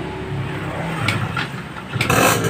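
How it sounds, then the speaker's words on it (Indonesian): A Yamaha RX-King motorcycle engine on a Yamaha F1ZR, kick-started into life, sputtering and then running with a steady idle and a couple of quick revs, fairly close. "pakai selah kaki dia mau hidup"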